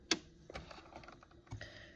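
Quiet, sparse clicking of a computer keyboard during email work, a few isolated crisp key taps close by in an otherwise hushed room, no talking.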